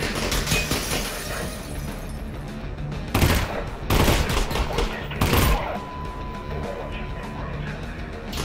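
Burst gunfire in Half-Life: Alyx: short sharp volleys crack out in a few separate bursts over steady background game sound, loud and close, with a shattering edge to some shots.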